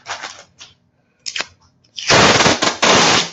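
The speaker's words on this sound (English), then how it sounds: "it is the most noisy roll of tape ever as well" A roll of painter's tape is pulled off in loud, ripping bursts: a few short tears, then a long, harsh, rapid crackling strip close by, with no speech.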